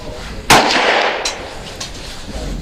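A single sharp V Seven rifle shot firing a 55 grain Fiocchi round, loud and close, followed by a lingering outdoor echo and a couple of faint later knocks.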